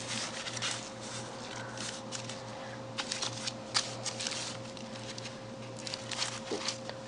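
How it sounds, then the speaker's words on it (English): Tissue paper glued to an envelope being handled, a steady close-up crinkling and rustling with soft papery crackles throughout, over a constant low electrical hum. "This is actually tissue paper."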